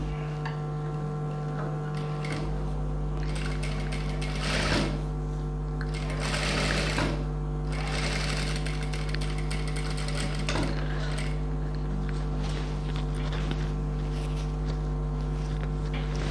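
A sewing machine stitches pleats into a silk children's skirt with a steady, rapid mechanical ticking that runs unbroken at close range, with a few short surges in pace.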